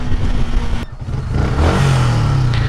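A loud Yamaha YZF-R125 sport motorcycle engine roars steadily, briefly drops off, then revs back up with rising pitch as it accelerates nearby.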